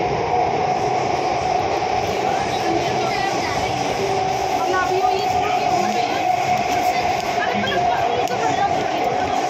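A metro train in India rumbles steadily along with a constant mechanical hum and rattle, while people chatter in Hindi in the carriage.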